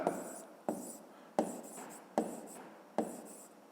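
A pen writes a measurement down on paper during a physics exercise, giving five close, scratchy strokes, each starting with a sharp attack and fading quickly, at a steady pace with no talk.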